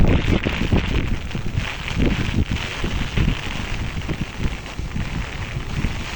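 Heavy rain hisses under gusty cyclone wind during flooding in Thondaimanaru, buffeting the microphone with low rumbles, loud and continuous, with no voices.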